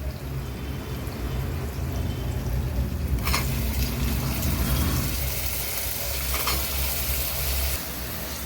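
Brinjal (eggplant) pieces and curry leaves hit hot oil in a pan with a loud, steady sizzle, the frying close and continuous, with a sharper burst partway through as more goes in and stirring noises under it.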